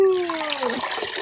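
Privet leaf dye water strained through a strainer trickles and splashes steadily, close by, after a short voiced exclamation at the start.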